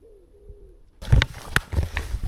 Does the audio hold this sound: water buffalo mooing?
no